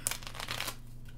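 Small, stiff playing cards riffle-shuffled by hand before a racing event at Rockingham, giving a quick burst of papery flutter and slapping that fades into quiet room tone.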